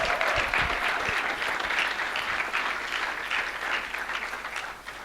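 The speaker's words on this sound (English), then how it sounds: "A round of applause, Nevi." Steady, dense applause fills a book launch in Sandton, Johannesburg, a crowd clapping at full strength throughout and easing slightly toward the end.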